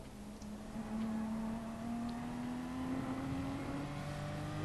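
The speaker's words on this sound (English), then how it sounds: "You can hear the car is just not struggling to get the power." A race car engine in a Gran Turismo time attack drones steadily, its pitch slowly climbing as it accelerates, moderately loud and continuous with no talk over it.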